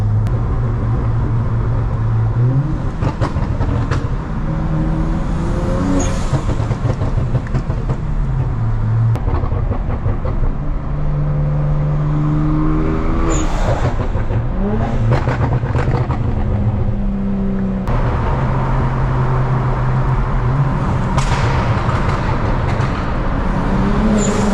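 A BMW 335i with the N54 engine, straight-piped exhaust and burble tune, droning steadily from inside the cabin while driving, with rising and falling revs and occasional crackle.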